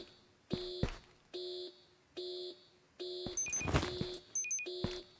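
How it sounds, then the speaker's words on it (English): A repeating electronic alarm in the video game Ghosts of Tabor beeps in steady pulses, with a harsher burst of noise partway through. "Oh, it's got an alarm and everything."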